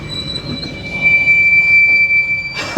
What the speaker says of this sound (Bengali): একটা লাইন থেকে আর একটা লাইনে কিন্তু ট্রেনটা চলে গেল